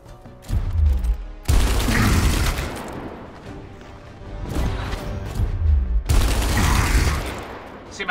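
Bursts of video-game gunfire from Gears Tactics come in loud, heavy volleys with booming impacts, separated by short lulls, close and dominant with no talk over them.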